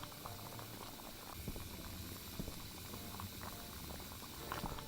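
Beer boils in a brewing vat in the game Beer Manufacture Simulator, a steady, dense bubbling and gurgling that rolls on evenly with faint mechanical clicks mixed in.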